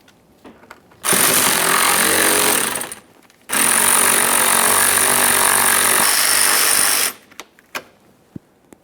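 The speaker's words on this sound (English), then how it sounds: "There's a 10mm headed mounting bolt. Remove that." A loud, close power tool whirs in two long bursts, the first about two seconds and the second about three and a half, while a 10mm mounting bolt comes off a 2011-2021 Jeep Grand Cherokee near the washer reservoir.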